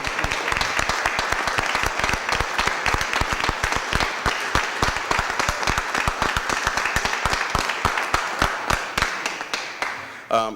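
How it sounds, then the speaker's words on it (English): At a Board of Aldermen meeting, an audience gives a retiring official a round of applause, steady and fairly loud clapping with distinct individual claps, running continuously before tapering off. "let's give him a big round of applause"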